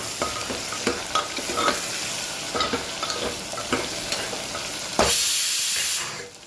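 Rhythmic scraping strokes of chopped brinjal and potatoes with asafoetida being stirred in a sizzling pan, repeated about every half second, then a louder hiss of frying near the end.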